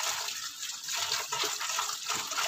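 Alugbati leaves are washed by hand in water, making faint, continuous splashing and trickling with soft, irregular swishes.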